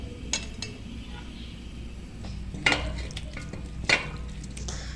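Batter-coated loitta fish fry in hot oil, giving a steady crackling sizzle, with a couple of sharp metallic clinks from a utensil against the pan cutting through.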